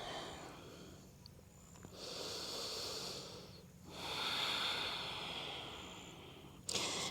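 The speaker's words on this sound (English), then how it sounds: "Deep breath." Slow, deep breaths during a yoga flow, each long airy inhale or exhale swelling and fading in a steady rhythm, close and quiet with no talking.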